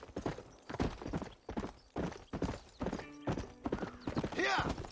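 Horses' hooves clip-clopping at a walk in the video game Red Dead Redemption, a rhythmic series of close hoof beats with a whinny near the end and people talking over them.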